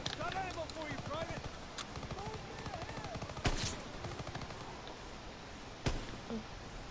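Gunfire from a World War 2 game crackles in sharp single shots and short bursts, including two loud cracks, mixed with distant clatter while a person talks over the action.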